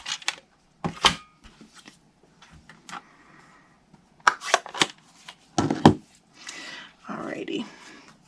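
Scissors snip through a paper gift tag for a chocolate Santa treat box, giving a few short, close crisp cuts and paper rustles between stretches of talking.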